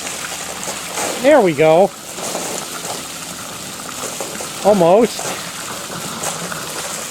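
Water gushing steadily into a swimming pool during filling, a constant rushing flow heard throughout under brief spoken words from a person nearby.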